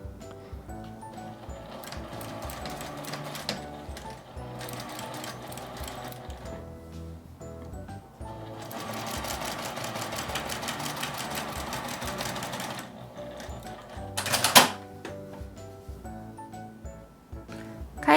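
A household sewing machine stitches fabric for a small pen holder, running in steady close whirring stretches with brief pauses and a sharp click near the end.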